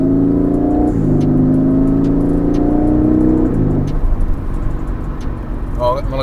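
An Aston Martin V8 Vantage revs up in loud, close pulls, its engine note climbing in steps through gear changes before easing off into road and tyre rumble, with someone talking over it.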